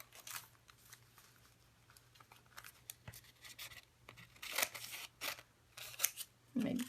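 Scissors snip through paper pieces for a collage journal page, a few quiet cuts early on followed by louder, sharper snips near the end, with a faint steady hum underneath.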